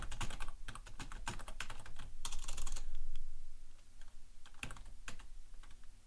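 Rapid clicking of a computer keyboard as a chat message is typed, with bursts of keystrokes separated by short pauses, close and fairly loud, no voices.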